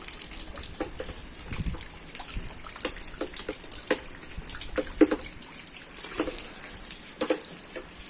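Water poured over compacted compost around a newly potted Sancang bonsai on a rainy day, giving a steady close gush and trickle with scattered splashy drips throughout, no talking.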